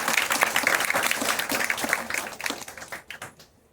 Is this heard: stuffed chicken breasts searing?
no